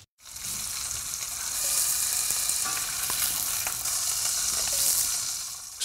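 Pork sizzles steadily in a hot pan as it fries, a loud continuous crackling hiss with sharp pops and spatters over nearly six seconds, no voices present.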